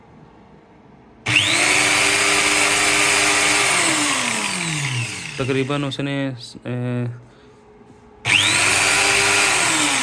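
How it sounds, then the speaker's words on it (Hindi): An electric drill runs loud and steady for several seconds, its pitch sliding down as it slows, then starts again after a brief stretch of talk; it is powered during a load test of a Sorotec 1200 W solar inverter. "अब मैं ड्रिल मशीन चलाने लगा हूँ।"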